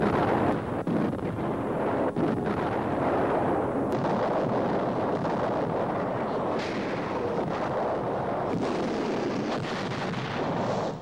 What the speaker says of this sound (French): le centre-ville de la Bassée est durant 3 jours écrasé sous les obus allemands